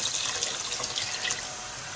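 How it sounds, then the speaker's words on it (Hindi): Water pours into a pot of kadhi being cooked, a close, steady splashing trickle that softens and evens out toward the end, with no talking. "अब इसमें हम थोड़ा सा पानी और शामिल करेंगे।"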